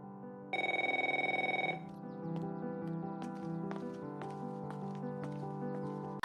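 A telephone ringtone rings in a home: a loud, close electronic trill lasting over a second, followed by a softer continuing musical tone and faint clicks.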